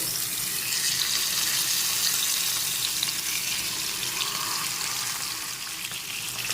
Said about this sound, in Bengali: এখন মাছগুলোকে ভেজে নিতে হবে তেল খুব ভালো করে গরম করে নিয়েছি